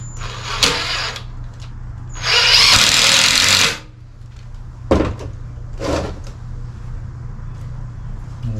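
A power drill drives 2.5 inch decking screws into a deck privacy wall: short whirring bursts, one sustained loud run of about a second and a half in the middle, then brief clicks and knocks of handling.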